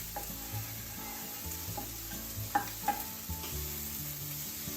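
Garlic sautéing with cooked green beans in a pan makes a quiet, steady sizzle with a few light clinks of stirring, under a low hum.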